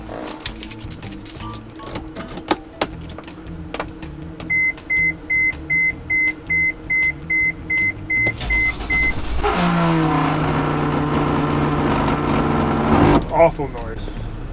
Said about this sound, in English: That was for sure the blower motor.